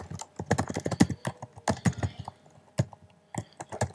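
Fingers clatter across a computer keyboard in quick uneven bursts of clicks, with short pauses between runs of keystrokes, close and fairly quiet, no speech.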